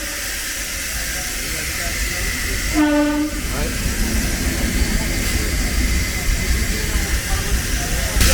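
The East Coast Express rumbles along with a steady roar of wheels and carriages, and a loud horn blast sounds near the middle over the continuous rolling noise.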